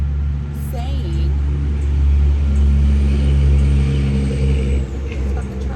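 Heavy trucks pass close by with a deep, steady engine rumble that swells and holds for several seconds, and a faint hiss that may be air brakes. A voice can be heard under the noise.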